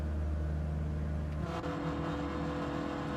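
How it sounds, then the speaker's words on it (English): Peugeot hypercar engine in a racing game at Daytona, a steady droning hum that jumps to a higher, rougher whine partway through, loud and close with no talk. "It's another hypercar."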